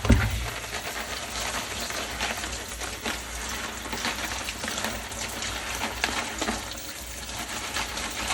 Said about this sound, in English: I'm using cold water over here.